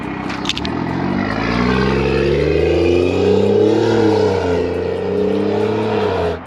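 A BMW B58 engine fitted with upgraded injectors revs from outside the car, a loud, steady, throaty drone with rising and falling pitch and no talking.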